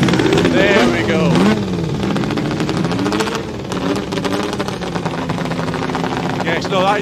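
Sidecar racing motorcycle engine with a big, high-compression motor bump-starting and revving loudly, rising and falling pitch over steady roar, with people talking over it at a pre-TT classic race.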